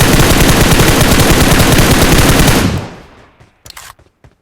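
Loud, close automatic gunfire in PUBG Mobile, a rapid sustained burst of shots that cuts off, followed by a couple of quieter shots and clicks.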